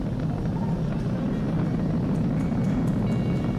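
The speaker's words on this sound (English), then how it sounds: "We've exceeded Mach 1 on the Falcon 9." SpaceX Falcon 9 rocket climbing through supersonic flight near maximum dynamic pressure, heard as a steady, dense, broadband roar and rumble that stays loud and continuous throughout.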